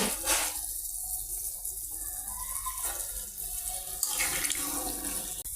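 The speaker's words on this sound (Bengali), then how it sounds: "পানি দিয়ে দিলাম" Water poured into a pot of cooking chicken meat, a continuous splashing, running flow heard close up with no voices.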